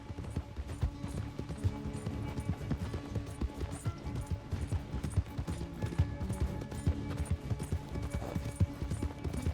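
Horse hooves clattering at a gallop in Red Dead Redemption 2, a steady rapid clip-clop that runs continuously and fairly loud, blended with a dense layer of background game sound.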